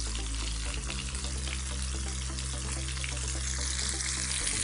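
Threadfin bream pieces fry in shallow oil in a pan, a steady, close sizzling hiss with soft crackles and a low hum beneath, continuous and even from start to finish.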